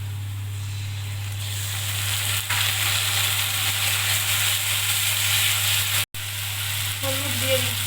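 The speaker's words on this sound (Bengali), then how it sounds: "এবার বেটে রাখা মশলা দিয়ে দিচ্ছি।" Ground spice paste sizzles in hot oil over fried onions for a chicken curry, a loud, steady broadband hiss running almost the whole time with a brief cut near the end and a low hum underneath.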